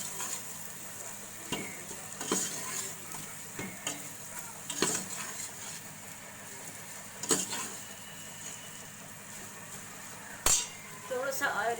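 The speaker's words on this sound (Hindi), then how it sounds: "अब इसको थोड़ा सा इसमें भून लूँगी।" Chicken frying in a pot for haleem, a steady soft sizzle broken by repeated scrapes and clinks of a spoon stirring against the metal, with quiet speech now and then.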